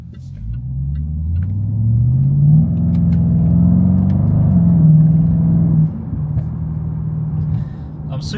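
A Jaguar XFR with an upgraded handling package drives along, its engine a steady, close rumble that swells briefly as it accelerates, then settles into a continuous cruising drone.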